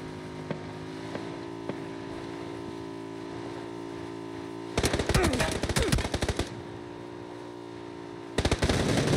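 Automatic gunfire in a shooter video game crackles in dense bursts over a steady low engine-like drone, with a long sustained volley in the middle and a shorter burst near the end.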